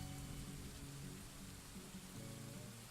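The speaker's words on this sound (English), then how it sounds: "No, that's the sound of rain again." Rain in the Dwarf Fortress video game, a steady, dense hiss that stays even throughout, with a low tonal hum beneath and no voices.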